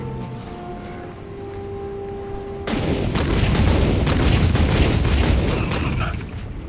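Cannons in Guild Wars 2 open fire on a flying beast, launching into a sudden barrage of rapid booming shots that continues loud and steady for several seconds after a quieter stretch of game ambience and music.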